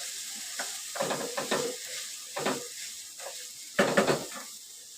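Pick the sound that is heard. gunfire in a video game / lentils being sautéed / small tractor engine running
lentils being sautéed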